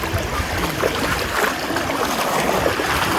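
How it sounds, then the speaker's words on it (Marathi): Footsteps wading through a clear shallow stream at Dubare Elephant Camp in Coorg, a steady close splashing and sloshing of water that runs continuously without talk. "तर ना इथून पाण्यातून जातोय आता आम्ही"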